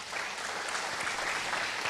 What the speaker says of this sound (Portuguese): Aplaude a Deus, aplaude.